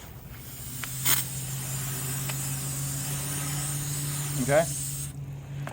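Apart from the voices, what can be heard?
garden hose spraying water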